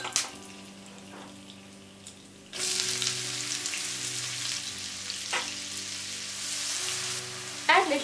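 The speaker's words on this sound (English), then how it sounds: "Then saute them a bit with oil and now add onions." Onions sautéing in oil with coriander seeds and bay leaves for paneer tikka masala: quiet at first, then a loud steady sizzle starts partway in and carries on with occasional stirring knocks until the end.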